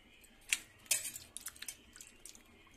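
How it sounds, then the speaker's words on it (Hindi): Bitter gourds being washed by hand in water in a kitchen vessel: soft splashes and sloshing with a few sharper clinks and drips, fairly close and quiet. "बिल्कुल इस तरीके से हम धुल लेंगे सारे करेले। 2-3 पानी से धुल लेंगे।"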